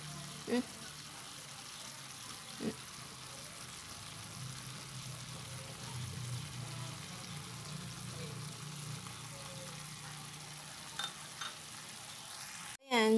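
Young jackfruit braising with black pepper in a pan, a soft steady sizzle and simmer running throughout with a few faint clinks, ending in a sharp knock.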